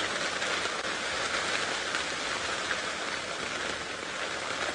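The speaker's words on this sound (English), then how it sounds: "you guys can hear the pitter-patter of the rain" Rain patters steadily on a safari vehicle during an evening game drive, a dense, even hiss of drops with no voices.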